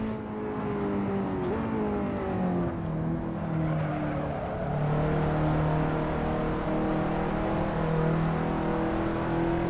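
A race car engine in a racing video game on a fast lap at Sebring, loud and continuous, with pitch climbing and dropping through gear shifts and corners.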